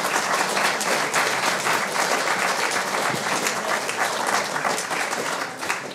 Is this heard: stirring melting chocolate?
no